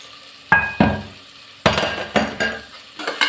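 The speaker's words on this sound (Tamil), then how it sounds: "நல்லா வதக்கிடலாம்." Ingredients for coconut milk rice are sautéed in a pot: a spoon scrapes and clanks against the metal in irregular strokes over a low sizzle, close and fairly loud, with no talk.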